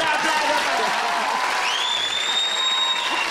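Studio audience applauding on a Colombian talk show, continuous clapping with voices and a whistle-like tone heard over it.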